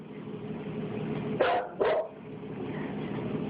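A dog gives two sharp barks in quick succession, heard alone over a steady background hiss, as if played back from a recording.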